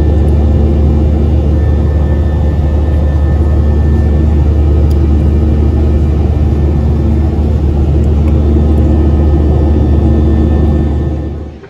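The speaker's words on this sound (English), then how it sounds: "Me and Mrs. Leo have made it on the plane. We're just waiting to take off." Jet airliner cabin before and during takeoff on a flight to Dublin, a loud, steady low engine roar and rumble filling the whole span without pause, easing slightly at the very end.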